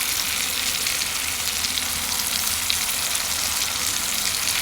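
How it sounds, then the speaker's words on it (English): Polish kielbasa and yellow onions sizzling in a 10-inch skillet over a wood gas stove, a dense, steady, close frying hiss with no talk. "man, this is starting to sizzle"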